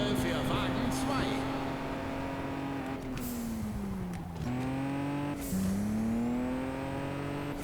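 Race car engines in the video game Juiced 2 drone steadily with shifting pitch as the cars accelerate and slow through a race, with a German-speaking voice talking over them throughout.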